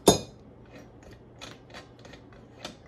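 Adjustable wrench loosening the blade nut on a vintage Black & Decker power miter saw: one sharp metallic clack at the start, then quieter scattered metal clicks and rattles.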